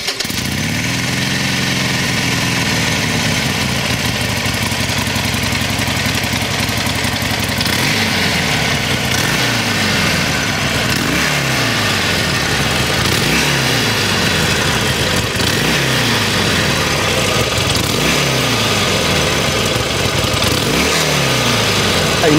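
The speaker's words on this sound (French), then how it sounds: "Une Harley-Davidson, ça vibre, ça bouge, ça fait du bruit, c'est caractéristique." A Harley-Davidson Forty Eight motorcycle fires up and settles into a loud, close, lumpy idle, its uneven potato-potato throb pulsing in slow repeated surges with no talking.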